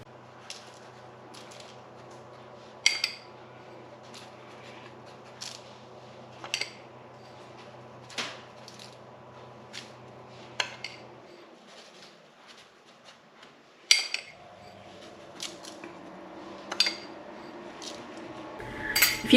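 A spoon clinks repeatedly against a bowl while Demerara sugar and cinnamon are mixed, with sharp metallic taps at an irregular pace over a low steady background hum.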